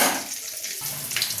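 Water pours into a pan of peanut curry with tempered onions and spices, a brief splashing gush against faint sizzling, loud and close with no talk.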